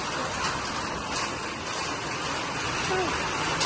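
Rain falls steadily during a sudden February downpour with hail, a continuous broadband hiss of drops close by that fills the whole clip without letting up.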